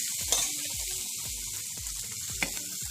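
Horse gram dal tadka sizzles in hot ghee with the gas off, a steady, bright frying hiss running throughout, close and fairly loud, with soft low pops repeating underneath.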